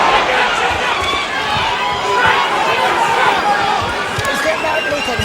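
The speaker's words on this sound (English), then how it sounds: "Crowd loves it." A large arena crowd at the Junior Jones versus Marco Antonio Barrera boxing match roars loudly and continuously through the action, with a dense murmur of chatter and cheering under the fight noise.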